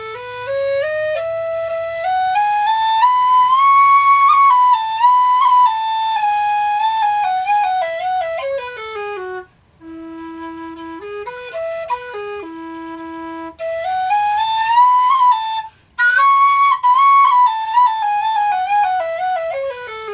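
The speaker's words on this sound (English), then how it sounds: "This is the low E, which is the lowest of the bodies on the small whistle head." A Reviol low E whistle with a small whistle head plays a flowing melody of clear, breathy tones, loud and close, with a brief pause mid-phrase and no talking.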